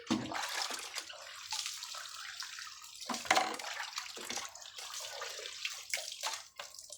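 Water poured over intestines during cleaning, a soft splashing and trickling stream with brief gushes, close and fairly quiet.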